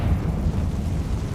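A Confringo explosion spell from Hogwarts Legacy gives a low, rumbling blast that rolls on steadily for over a second, with a dense boom and no clear sharp onset.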